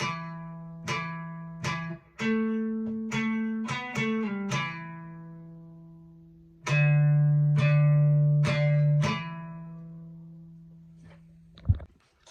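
A single guitar picks out a slow low riff on the fifth string, notes ringing and fading one by one, with a pause before the phrase repeats.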